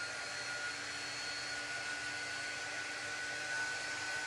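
A hair dryer blows steadily to dry fresh paint on a rainbow craft project, a constant close whooshing roar with a faint whine, heard alone with no talking.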